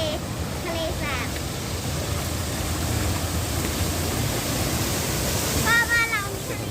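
Floodwater from an overflowing stream rushes steadily through a Thai town, a loud, continuous broadband roar, with faint voices and a passing vehicle heard behind it.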